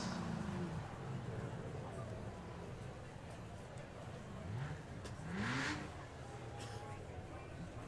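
Chevrolet Corvette ZR1 with front-mounted V8 revving at a supercar car show, several rising engine sweeps heard from a distance amid crowd noise and a commentator talking.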